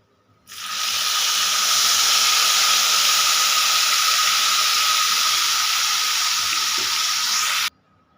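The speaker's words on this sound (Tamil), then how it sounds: "இப்போது கொய்யாப்பழம் சைஸில் புளி ஊற வச்சு கரைச்சி வச்சுருக்கோம் அதை ஊற்றிக்கலாம்" Soaked tamarind extract is poured into a hot pan while making tamarind rice, giving a loud, steady hiss and sizzle that starts abruptly, holds for about seven seconds, then stops.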